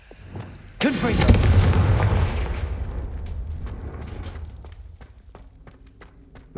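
A Confringo fire spell in the Hogwarts Legacy video game goes off with a loud, sudden blast that swells into a roaring burst, then fades slowly into a crackling tail. No one speaks over it.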